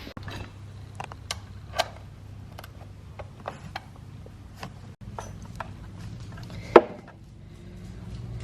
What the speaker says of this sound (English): let's get this sump nut off